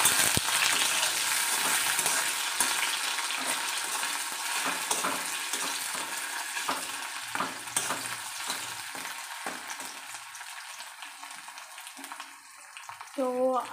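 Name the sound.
potatoes frying in a pan for chowmein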